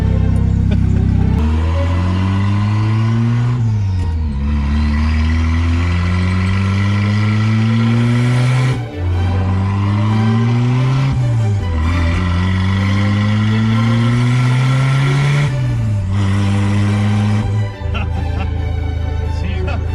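A 3T-GTE-swapped Toyota Corolla RA40 coupe engine revs repeatedly, climbing in pitch through each gear, then dropping as it shifts. The exhaust note is loud and close and keeps going without a break.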